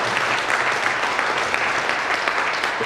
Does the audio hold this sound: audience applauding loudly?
yes